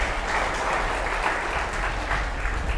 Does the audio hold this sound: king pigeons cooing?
no